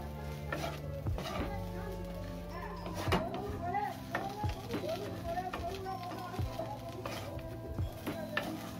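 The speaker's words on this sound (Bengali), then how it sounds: "তো দেখো বন্ধুরা খুব সুন্দরভাবে কিন্তু ম্যাগির সাথে মশলাগুলোকে আমি মিশিয়ে নিয়েছি।" Maggi noodles being stirred with masala spices in a pan, giving soft scraping and clinking of utensil against the pan with faint sizzling, steady and close, while a person talks over it.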